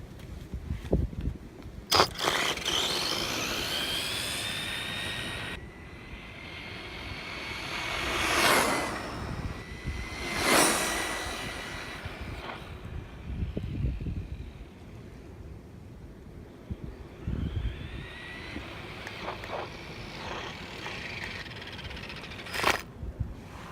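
A Carisma M10DB RC model with a 4300 kV motor and 29-tooth pinion runs at speed, its electric whine swelling and fading in several passes over wind and outdoor background noise.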